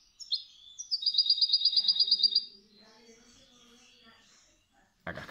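European goldfinch singing a bright, rapid jingling cascabel phrase of repeated notes, followed by softer twittering; a voice briefly begins at the end.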